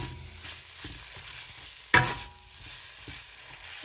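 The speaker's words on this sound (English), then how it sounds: "Stir it all up together." Vegetables, meat, rice cake and Spam stir-fried in a pan make a steady close sizzle, with a sharp clatter of the utensil stirring through partway.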